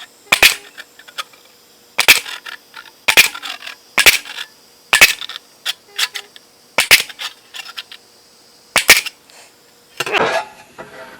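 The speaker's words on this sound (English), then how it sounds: "So I'm going to go ahead and get those punched and get this ready." A hand punch tool drives holes through sheet metal for a frame patch on a 1969 Mercedes 280SL, sharp close metallic snaps repeating about once a second, roughly ten in a row, alone.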